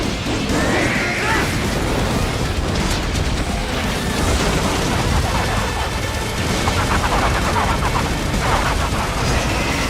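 Plasma cannon firing in the Marvel Rivals video game amid dense, continuous gunfire and explosive blasts, loud and chaotic throughout with no pauses.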